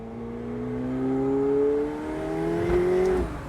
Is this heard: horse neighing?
no